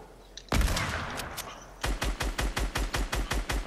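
Rapid burst of gunshots from a Fortnite match: one loud shot, a short noisy pause, then about ten evenly spaced, punchy reports in quick rhythm, close and loud with no talking over them.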